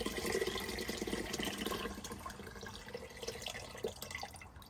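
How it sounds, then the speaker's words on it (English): Water pours and splashes into an Instant Pot inside a campervan, a soft, close trickle that runs for a few seconds and then tapers off. "That's the water."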